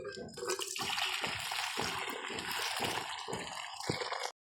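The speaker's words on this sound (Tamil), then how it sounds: "தண்ணியை மட்டும் எடுத்து விட்டுருவோம்." Boiled water is drained from a cooking pot, pouring and splashing steadily for several seconds, a continuous gushing stream with gurgling bursts, then stops abruptly.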